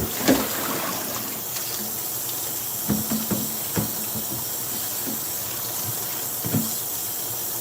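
Tap water runs steadily into a kitchen sink for rinsing while cooking a chicken stir-fry, a constant close hiss with a few soft clinks and knocks scattered through it.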